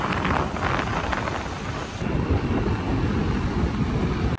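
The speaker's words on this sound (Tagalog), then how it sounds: "Habang nasa kalagitnaan kami ng biyahe ay biglang bumuhos yung ulan kaya tumabi muna kami para magkapote." Heavy rain pours down steadily in a loud, dense rush during a drive, continuing unbroken for several seconds with no voices.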